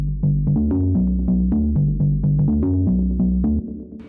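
A distorted, compressed lofi house synth plays a bright melodic run of roughly a dozen short, punchy plucked notes in a steady rhythm, loud and alone, then cuts off.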